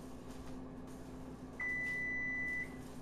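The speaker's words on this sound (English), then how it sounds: "There's my oven, it's ready." A kitchen oven sounds a single steady electronic beep, about one second long, once preheating for baked potatoes is done, clear over a quiet room hum with no talking.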